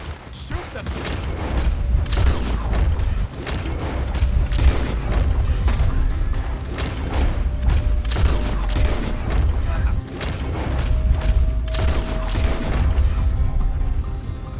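Gunfire in the video game Red Dead Redemption 2, a rapid, continuous stream of loud close shots in a busy firefight, with voices speaking over the din.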